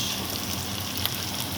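Squid and mixed seafood fry in a hot pan, a dense, steady sizzle heard close and loud all the way through.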